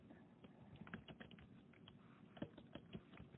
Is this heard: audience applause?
no